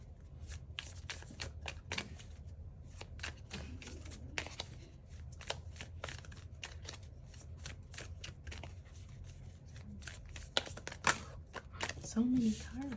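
A deck of cards being shuffled and riffled in repeated bursts of crisp flicks and snaps, fairly close, with soft handling noise between them and a brief voice near the end.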